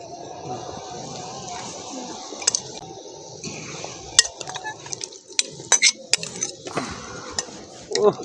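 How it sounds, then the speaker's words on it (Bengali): Fried potatoes go into a boiling potato curry and get stirred, producing soft wet squishing and scraping with sharp clinks of a spoon on the pot, close by, alongside people talking. "তরকারির ঝোলটা ফুটে গেছে এবার ভেজে রাখা আলুগুলো দিয়ে দেবো"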